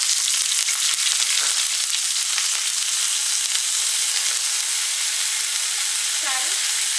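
Cauliflower sizzles in hot oil spiced with cinnamon stick, cloves, green cardamom, bay leaves and dry red chili, a loud, steady, hissing fry that runs without a break.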